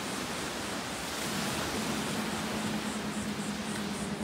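Ocean surf on a beach, a steady, even wash of broadband noise with no distinct breaks or voices, moderately loud and continuous throughout.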